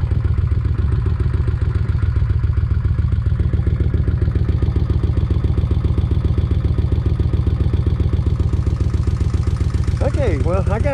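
Kawasaki Vulcan 1600 motorcycle engine running steadily and loud throughout during a clutch test, a continuous rhythmic mechanical drone with a brief rise in tone near the end.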